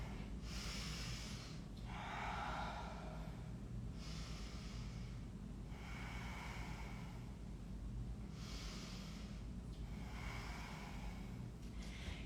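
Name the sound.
breathing during a yoga pose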